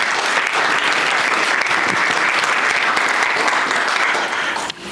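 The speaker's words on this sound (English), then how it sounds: "Can you give a round of applause to them?" Loud, sustained audience applause for graduates of a public speaking class inside a hall, dense clapping from a large crowd that holds steady before tapering off at the very end.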